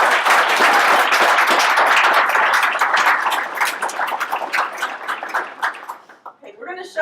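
A high school audience at an engineering day event claps for student presentations, a strong burst of applause that gradually thins into scattered claps, with voices starting up as it fades.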